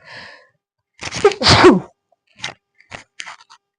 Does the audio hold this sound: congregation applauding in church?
no